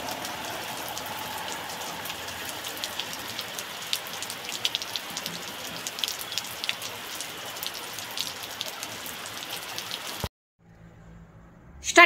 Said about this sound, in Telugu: పండు వర్షం స్టార్ట్ అయిపోయింది